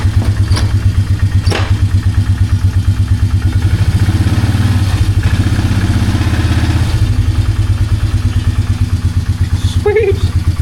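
A Polaris Magnum 330 ATV engine runs at a steady, loud, pulsing idle close by after a hard-start repair, its rapid regular thumping continuing throughout with a few clicks on top.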